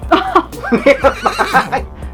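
A person imitates a horse's neigh, voicing a rising and falling whinny in several bursts up close, with a playful laughing tone.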